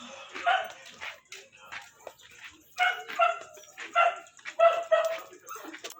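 A dog barks and yips in several short bursts, moderately close and somewhat faint, with brief whimpering gaps between the barks.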